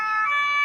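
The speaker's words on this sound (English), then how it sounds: "We apologize for all the sirens." An emergency vehicle siren wails loud and steady in a brief sustained tone, close by on a street in Paris.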